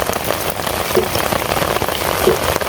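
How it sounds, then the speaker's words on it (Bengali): Rain falling outdoors during the rainy season in Bangladesh, a dense, continuous patter of drops on surfaces, close and fairly loud throughout with no voices. "আরও বৃষ্টি বইছে"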